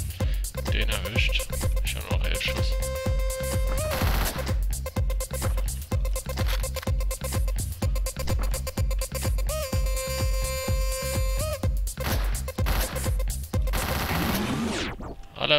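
Rapid assault rifle fire in the top-down video game Hotline Miami, a dense string of loud, evenly spaced shots running almost continuously under driving game music.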